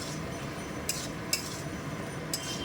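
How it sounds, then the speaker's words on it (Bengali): Diced potato stirred into well-cooked spice paste in a pan for green jackfruit and prawn curry: a steady low scraping hiss with a few sharp utensil clinks against the pan. "আলুটাকে দিয়ে আমি এখন মশলাটাকে কষবো।"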